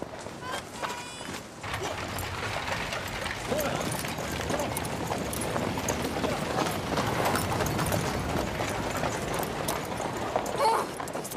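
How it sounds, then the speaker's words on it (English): Horse-drawn carriages pass along a busy town street, their hooves clip-clopping steadily and fairly close amid general street bustle and crowd noise. "Odious carriages, I detest them."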